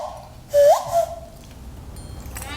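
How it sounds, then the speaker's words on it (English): A Brazilian nose whistle played with the nose sounds a short rising swoop into a held tone, then a brief second note, loud and close, alone against a quiet room. "It's called a nose whistle because you play it with your nose."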